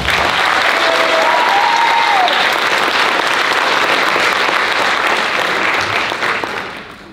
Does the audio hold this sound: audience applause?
yes